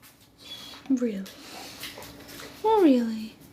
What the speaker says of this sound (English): Puppy, what are you crying about?